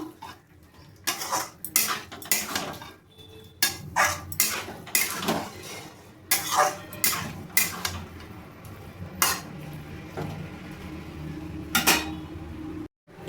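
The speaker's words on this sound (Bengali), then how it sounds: "এবার আমি চিকেনটা দিয়ে দেবো। ভালোভাবে নাড়িয়ে নেব।" Chicken stirred into a cashew spice masala in a pan, with repeated loud scraping and clinking of a utensil against the pan in an uneven rhythm, close and without talk.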